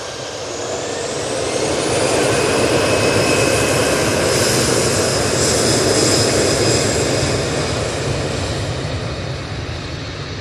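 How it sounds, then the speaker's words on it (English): An EasyJet airliner at Manchester Airport powers down the runway on its takeoff roll, jet engines roaring in a loud, sustained, steady rumble that swells slightly mid-way and holds without any talk. "EasyJet on the roll."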